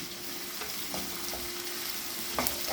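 Dried red chillies and curry leaves with ginger and garlic frying in a pan, a steady close sizzle with occasional stirring scrapes and a brief louder crackle near the end.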